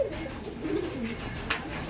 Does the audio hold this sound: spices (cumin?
no